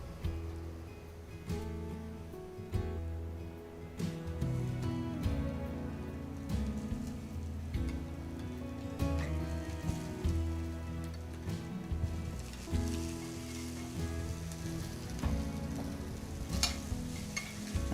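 Garlic and pre-cooked barley sizzling in a pan for a roasted butternut squash and barley risotto, a steady crackling fry with stirring scrapes and some background music, no talking.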